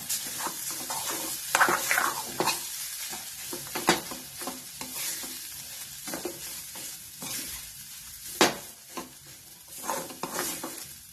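Mashed green peas fry in a pan on medium heat while a spoon stirs and scrapes in irregular strokes, bright scraping bursts over a continuous close sizzle.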